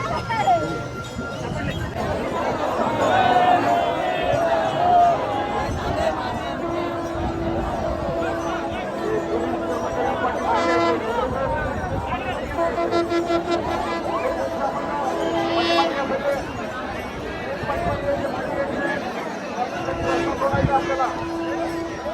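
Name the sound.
crowd of pilgrims at the Palkhi procession in Pune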